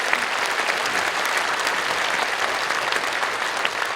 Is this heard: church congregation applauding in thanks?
yes